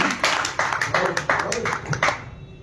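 An audience at a Hindi poetry recital during a book launch in Delhi claps in a steady rhythmic beat, about three claps a second, over a voice reciting.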